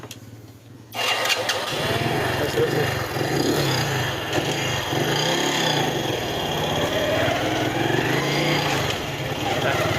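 A motorcycle in neutral fires up after a short quiet moment and keeps running in a loud, steady, buzzing idle close to the listener.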